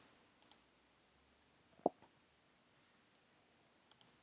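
Several faint, crisp mouse clicks sound in an otherwise quiet room while software is set up: a double click, a single one, another pair and a final double, spaced a second or so apart.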